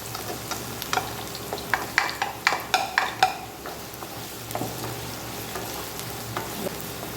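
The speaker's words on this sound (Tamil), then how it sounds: "அதனால் இப்போ வெங்காயம் போட்டுக்கலாம்." Onions fry in a hot pan as they are added after garlic for a Tamil-style dish, a steady sizzle broken by repeated sharp scraping stirs early on, then calmer frying.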